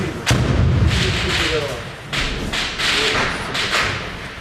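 Combat explosions and heavy thuds during a battle at an airport, several sharp booming impacts spread across the clip with loud rumbling between them.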